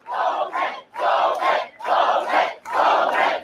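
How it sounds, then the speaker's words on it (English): Crowd at a political event chanting the name "Bowman" in unison, four loud rhythmic repetitions of the two-syllable name, with short pauses between them. "Then he starts to cheer his own name with the crowd."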